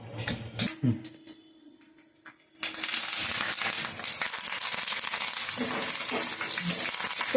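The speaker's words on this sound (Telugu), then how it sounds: "ఇప్పుడైతే తాలింపు వేస్తాను" A few quiet clinks and taps, then a sudden loud burst of sizzling as tempering spices hit hot oil, crackling steadily and close.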